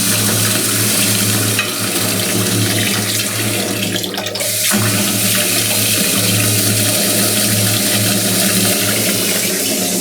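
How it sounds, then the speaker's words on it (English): Tap water rushes through the newly connected supply lines of a freshly installed utility sink, a loud, steady hiss and splash that runs nearly unbroken, dipping briefly partway through. "Turn on the water."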